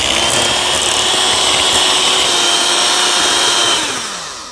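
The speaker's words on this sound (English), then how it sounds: "And we're going to start whisking this." An electric mixer whisks egg yolks and sugar for tiramisu, a loud, close, steady motor whir holding constant before winding down at the end, with no voices.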